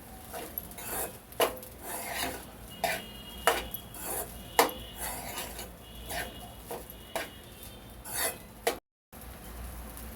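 Egg rice stirred and mixed in a pan with a spoon, giving repeated scraping and clinking strokes in an uneven rhythm, close and fairly quiet, with a brief silent gap near the end.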